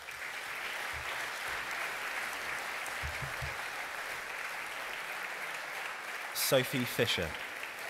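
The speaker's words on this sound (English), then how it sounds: "join me in applauding the graduates while they collect their certificates" Steady, moderate audience applause for graduates collecting certificates at a university graduation ceremony, continuing under a voice announcing a name over the sound system.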